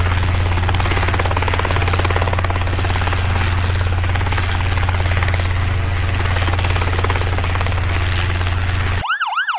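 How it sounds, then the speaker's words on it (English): A loud, close police helicopter chops steadily with a heavy rotor beat, then near the end it cuts to a wailing siren rising and falling. "Police helicopter."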